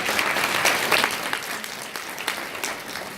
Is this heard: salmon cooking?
no